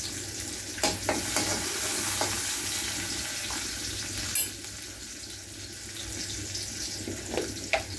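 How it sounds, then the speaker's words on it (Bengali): Chopped garlic sizzling in hot oil as a tempering for dal, a steady close hiss with a few sharp spatters and utensil scrapes, no voices. "ডালে ফোড়ন, তার জন্য রসুন কুচি করে নিয়েছি"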